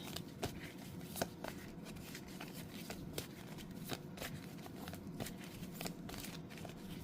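A deck of oracle cards is shuffled in a steady, soft riffling rhythm with crisp little card snaps, fairly quiet and without any talking.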